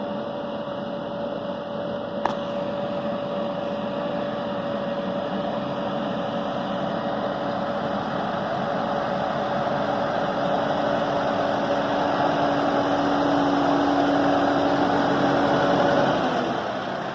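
A small tractor engine drones steadily and close throughout a farm ride, a constant mid-pitched hum with a faint whine that swells slightly louder toward the end.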